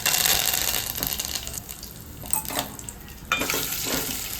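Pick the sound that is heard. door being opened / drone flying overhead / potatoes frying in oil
potatoes frying in oil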